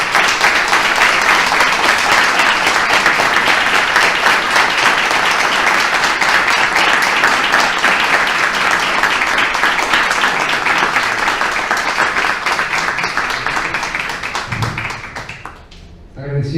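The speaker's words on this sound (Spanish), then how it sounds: "un enorme aplauso" An audience at the opening of an international relations congress gives loud, dense applause that rolls on steadily for about fifteen seconds before tapering off at the end.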